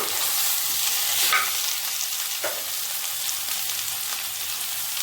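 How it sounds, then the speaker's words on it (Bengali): Vegetables stir-fried in a pan for sukto, a continuous close hiss of frying with a couple of scraping stirs, no voices. "একটু ভালো করে এটা নাড়াচাড়া করে ভেজে নেব"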